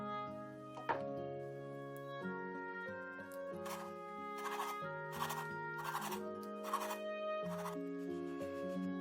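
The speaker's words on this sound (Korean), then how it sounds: "밤은 먹기 좋은 크기로 잘라주고 곶감은 꼭지와 씨를 제거해서 적당한 크기로 잘라줍니다." A knife cuts chestnuts and dried persimmons on a board, making a run of short, rhythmic scraping slices under soft, steady background music.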